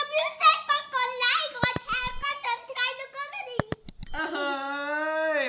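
A small hand bell rings in a few quick, bright bursts at home, mixed with lively talk and a voice; a voice also mimics the ding-ding ringing.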